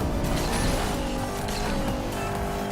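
A Bugatti racing in the Asphalt 8 video game, its engine roaring loudly and continuously with a hint of tire squeal through the short stretch.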